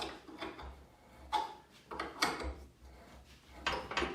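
A 14mm wrench turns a bolt into aluminum on an airbike fuel tank, producing a run of irregular grinding, ratcheting bursts with short pauses between the turns, heard up close.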